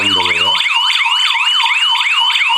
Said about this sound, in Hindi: जैसे ही दरवाज़ा खुलेगा तो ये सायरन बजेगा